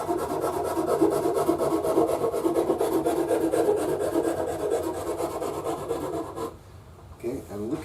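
A Shinto rasp files steadily along the wooden neck of a Gazzbass Falcon bass guitar, blending into the fingerboard, making a loud rhythmic rubbing rasp that stops near the end.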